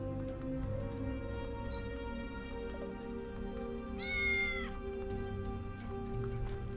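Cat meowing in the video game Tales of the Neon Sea, two distinct meows, the second longer and louder, over a steady hum of game music and ambience.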